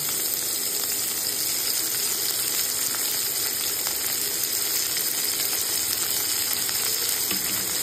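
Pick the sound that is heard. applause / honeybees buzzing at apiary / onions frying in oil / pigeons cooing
onions frying in oil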